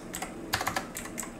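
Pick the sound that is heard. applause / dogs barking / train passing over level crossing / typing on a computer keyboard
typing on a computer keyboard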